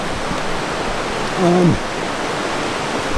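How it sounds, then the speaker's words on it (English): A huge set of river rapids at Bloody Falls in Nunavut rushes with a steady, broadband roar of churning water, loud and unbroken, while a brief tonal cry rises and falls midway. "it's a huge set of rapids"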